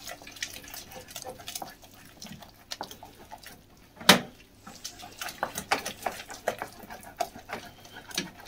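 A spoon stirring semolina pudding with sugar and milk in a pan in a home kitchen, giving soft scraping and clinking against the metal, with one sharp knock midway and quieter irregular stirring sounds after it.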